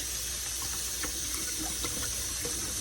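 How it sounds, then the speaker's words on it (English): Warm water runs from a kitchen tap while fish are being cleaned. The flow is a soft, steady splashing trickle with a few faint drips and no voices. "Okay, so I'm running this warm water."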